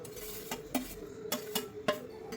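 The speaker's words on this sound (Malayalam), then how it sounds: "എന്നിട്ട് ഇത് നല്ലതുപോലെ പുളി വെള്ളത്തിൽ ഇളക്കി യോജിപ്പിക്കണം" A spoon stirs a ginger and onion mix into tamarind water for sweet ginger curry, with several distinct scrapes and taps against the pan at irregular intervals, moderately close, no talk.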